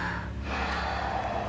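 A long, deep breath drawn during a yoga session, heard as a steady, close airy rush that lasts the whole moment with no talking.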